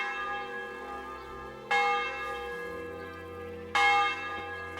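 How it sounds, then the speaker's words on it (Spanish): Church bells ring in Kingdom Come: Deliverance with two bright strikes about two seconds apart, each leaving a long, shimmering resonant decay over a low, quiet hum. "cuando tocan las campanas en este juego es a la salida del sol, a la puesta y tal vez a mediodía"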